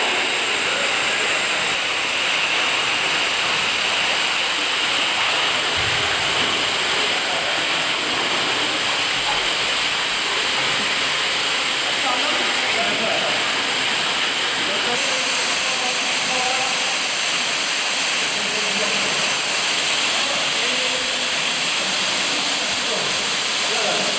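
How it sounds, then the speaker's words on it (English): Underground waterfall in the Dan yr Ogof cave roaring as a constant, loud hiss of rushing water that fills the chamber; faint voices occasionally sit beneath it. "Through to the waterfall, which was a pretty impressive chamber."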